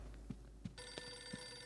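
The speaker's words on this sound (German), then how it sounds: "Oh, Telefon." An old telephone rings in the horror video game Eternal Darkness, a faint, short bell with repeated soft trills against a low background hum.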